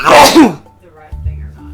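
A single loud, sharp sneeze bursts out at close range, followed by a moment of quiet and faint background sound; a voice speaks just before it.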